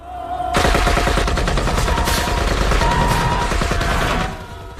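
Sustained automatic gunfire in a film scene, a dense rapid fusillade of shots riddling a metal container with holes, loud and close, starting abruptly and running for several seconds before cutting off.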